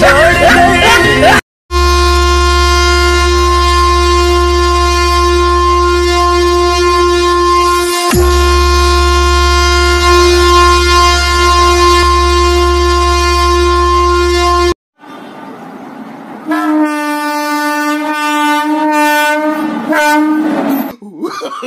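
A loud, sustained train horn blares for over ten seconds, cuts off, then sounds again in a shorter, wavering blast.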